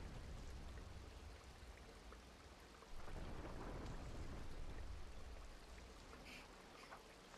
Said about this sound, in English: Can't let a little rain get in the way of your training.